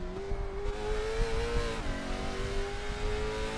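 A late model race car on a street circuit, its engine droning loud and steady with a falling pitch as it brakes hard into a turn.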